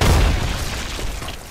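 A grenade detonates in a shooter video game match, a single heavy, loud boom at the start that rumbles and fades over the next second.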